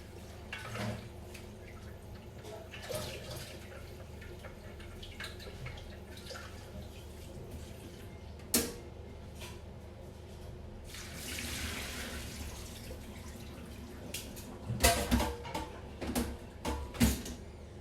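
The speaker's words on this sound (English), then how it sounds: "I'm going to use some water to rinse the bowl and then return the broth back into the TM bowl" A Thermomix bowl being rinsed under a tap: water runs and splashes in a sink, with scattered clunks and knocks as the bowl is handled, and a louder burst of gushing and clattering near the end.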